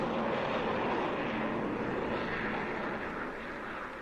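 A large aircraft drones low overhead as a radio drama effect, a broad steady engine roar that slowly fades slightly over a few seconds.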